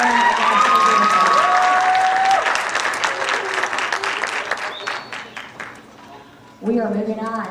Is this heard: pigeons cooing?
no